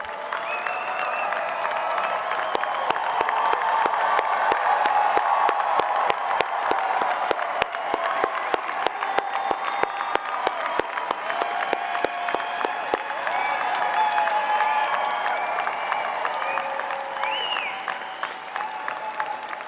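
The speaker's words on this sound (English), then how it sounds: "Graduates, please join me in recognizing and applauding your loved ones for the steadfast support." A large graduation commencement audience at a business school claps in sustained, dense applause for about twenty seconds, loud and close, swelling early and slowly tapering off.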